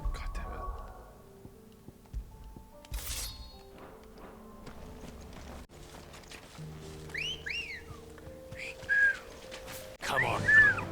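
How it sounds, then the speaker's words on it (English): Sharp, bright whistles chirp in short rising and falling bursts inside the Final Fantasy XVI video game, mixed with ongoing game sounds and a voice. "I wish I could whistle as sharply as that."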